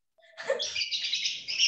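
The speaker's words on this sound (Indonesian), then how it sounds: "Itu burung apa itu?" A bird chirps close by, a short, bright burst of twittering notes heard alone in a quiet moment.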